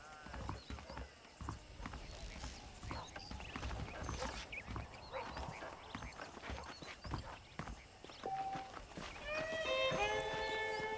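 Horse hooves clip-clop at a walking pace amid Red Dead Redemption game ambience, ending with a short rising whinny-like tonal sound.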